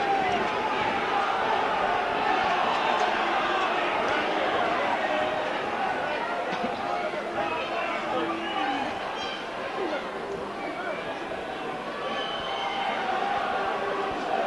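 Crowd noise at a rugby league cup match at Hilton Park between Leigh East and Bradford Northern, a steady outdoor murmur and roar that holds level throughout beneath a commentator's voice.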